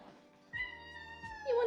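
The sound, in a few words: cat meowing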